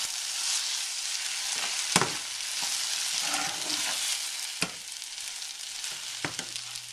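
Two large eggs sizzle and fry in a pan while being scrambled, a soft continuous crackle broken by a few sharp clicks and scrapes of stirring, with no talking.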